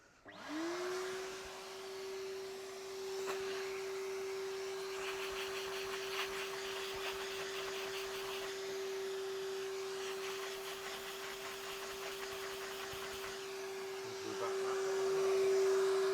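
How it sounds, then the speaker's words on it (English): A vacuum cleaner runs steadily and close by, a strong constant motor whine holding for about fifteen seconds while quick-vacuuming parts of a vintage Electrolux 502 during a refurbishment, with faint handling noises over the drone and no talk. "They just need a quick vac."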